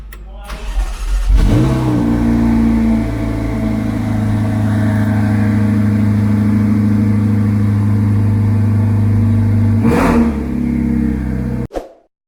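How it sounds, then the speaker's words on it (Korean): A Ferrari 488 Challenge race car engine cranks and catches, then settles into a steady, loud idle for several seconds before a second rev and abrupt cutoff. "브레이크를 밟은 상태에서 스타트 버튼만 눌러주게 되면 시동이 걸리게 됩니다"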